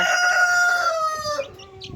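A desi chick's high chirps and peeps ring out close and clear over a steady hum while being weighed, a thin call sliding down after a short pause.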